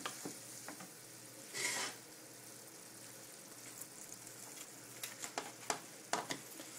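Vegetables for pancit bihon with tofu stir-frying over medium-high heat, giving a soft steady sizzle with a brief louder burst early on and scattered scraping clicks of the utensil toward the end.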